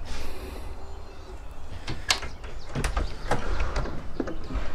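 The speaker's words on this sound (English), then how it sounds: "We can unlock this door right here using this little keypad." The keypad lock on an Airstream Argosy side door clicks as it unlocks, a series of sharp close beeps or taps and mechanical latch sounds over a low background hum, with no talking.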